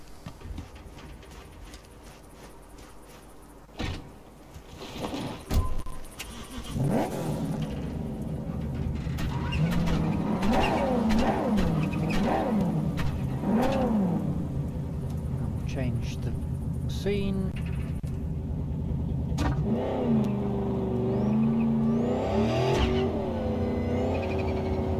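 A car driven in the video game Cyberpunk 2077, its engine revving and rising in pitch over a steady drone through most of the stretch, with someone talking over it.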